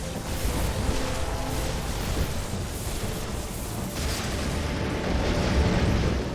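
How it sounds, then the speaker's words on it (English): Double Desolator airstrike in Red Alert 3 detonating over a battle, a dense, continuous roar of heavy explosions and rumbling booms that stays loud throughout with no voices. "So the double Desolator airstrike came on in, which will zone out red for a short time, allowing orange to be focused down"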